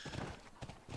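Horse hooves clip-clopping in The Last of Us, a steady run of close, fairly loud hoofbeats with a brief whinny-like tone, filling the whole second under game ambience.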